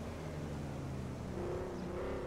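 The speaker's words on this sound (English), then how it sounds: "I can actually hear the turbo loud and clear." Turbocharged car engine revving in GTA 5 on PC with real-life mods, a fairly faint rising and falling engine note with a pitch sweep toward the end, heard alone.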